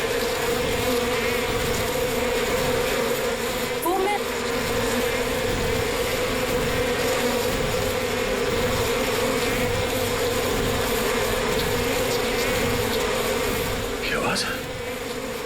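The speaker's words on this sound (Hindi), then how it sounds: "किसी ने मधुमक्खी को छेड़ दिया क्या?" A swarm of bees drones in a steady, loud, unbroken buzz for the full fifteen seconds, with a couple of brief faint sounds passing over it.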